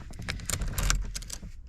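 Car keys jangle in a short metallic clatter as they slide into the ignition of an old BMW M3 after winter storage, close and clear.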